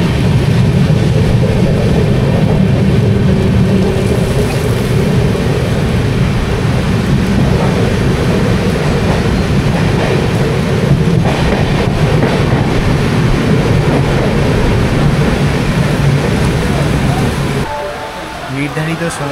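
A last local train on the main line rolls loudly into a station, a continuous heavy rumble with steady clatter from close by, easing near the end, while people talk nearby.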